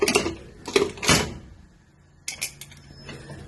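A metal lid clatters onto a pot of mutton gravy with coconut masala, giving several sharp close clinks in quick succession, then a pause, then a couple of lighter taps.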